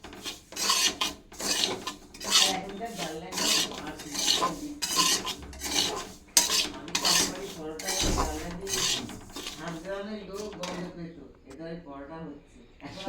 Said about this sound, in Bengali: প্রথমে সুজিটাকে ভেজে নিচ্ছি।